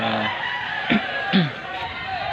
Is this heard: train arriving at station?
no